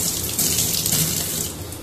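Tap water runs steadily over sealed semolina and flour packets being washed at a kitchen sink, a continuous close hiss and splash with no talking.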